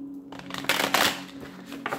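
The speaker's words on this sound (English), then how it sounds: "One more shuffle, Aquarius," Tarot cards shuffled by hand, a short burst of crisp riffling and slapping card sounds, close and clear, followed by a quieter flick near the end.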